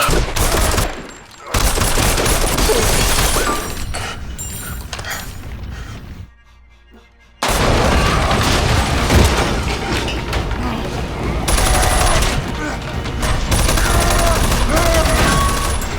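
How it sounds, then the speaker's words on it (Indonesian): Sustained bursts of movie gunfire as a man empties his weapon into a creature until the ammunition runs out, loud and dense, broken by a short near-silent gap before the heavy shooting and impacts resume. "Dr. Neville menembaki Darkseekers Alpha itu hingga pelurunya habis."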